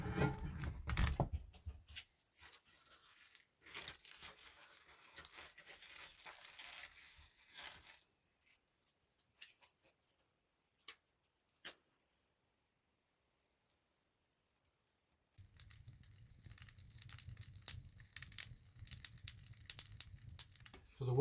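Birch kindling is crumpled and torn while a wood stove fire is laid in an off-grid cabin on a cold night, with bursts of crinkling and snapping, a long quiet gap with a few sharp clicks, then louder rustling returning.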